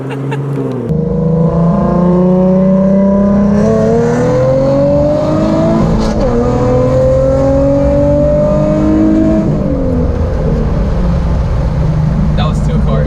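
A Nissan 370Z and a C7 Corvette racing, one engine loud and near, droning and climbing through rising gear pulls with brief shifts, heard from inside a car, with speech over it.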